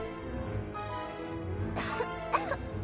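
A few short, harsh coughs burst out over a low background of game music and sound, near and fairly loud.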